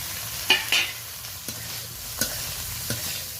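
Shrimp with onion and green chilli stir-fried in a little oil for a fenugreek greens dish with potato and eggplant, with a soft steady sizzle broken by a few sharp scraping stirs of the spatula, close and fairly quiet.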